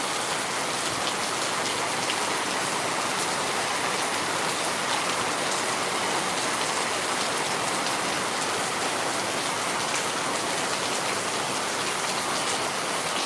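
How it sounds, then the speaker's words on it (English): Steady, dense rainfall patters continuously on surfaces, a loud even hiss of drops with no pauses and no voices. "I love rain."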